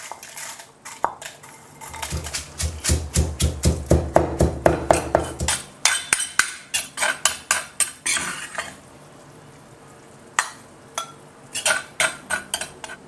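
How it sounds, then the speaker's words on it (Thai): Fried dried chilies pounded in a mortar, a dense run of sharp, rhythmic pestle thuds, loudest and quickest in the middle, then spacing out into scattered single knocks, with no talking. "อันนี้พริกแห้งทอดครับ1กำมือแจ็คจะนำมาโขกครึ่งนึงนะครับ"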